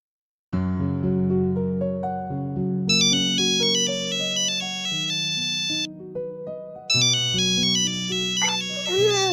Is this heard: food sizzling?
no